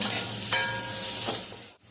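Carrots and tomatoes are stirred and fried in a pan, giving a continuous hiss with a couple of brief scraping clatters before the sound cuts out near the end.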